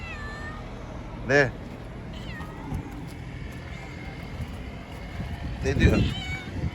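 A pet cat meows twice, close and clear, with a short gap between the calls, while someone speaks softly to it in Turkish.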